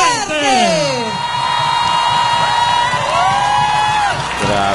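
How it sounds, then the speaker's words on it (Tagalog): A large crowd at an outdoor prayer rally for President Rodrigo Duterte in Tagum City roars and shouts, loud and sustained, under an amplified announcer's voice. "Grabe, hiyawan ang tayo."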